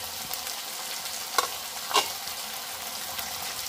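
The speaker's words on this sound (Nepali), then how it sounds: "अब मजाले हामीले चलाउनुपर्छ" Drumstick and potato curry being stirred in a pan, with a faint steady sizzle and two brief louder scrapes of the spoon against the pan.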